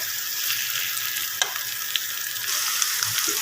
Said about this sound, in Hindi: और यहाँ हम भिंडी को कर लेते हैं अच्छे से फ्राई।